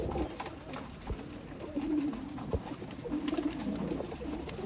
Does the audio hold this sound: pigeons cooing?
yes